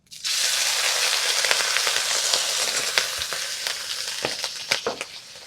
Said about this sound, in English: I start out by just putting the vegetables in. And what this is just 2/3 of a cup of chopped onions.